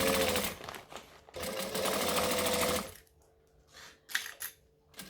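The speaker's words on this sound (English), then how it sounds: "we're going to stitch and back stitch to lock in your stitches" A sewing machine stitches forward and then back stitches, running in close, steady buzzing bursts that stop and start, with quieter rustling and small clicks between runs.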